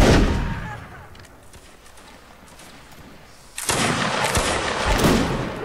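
Musket fire in Mount and Blade Warband, a loud crackling blast at the start that fades out, then a second dense burst of overlapping shots rolls in and continues to the end.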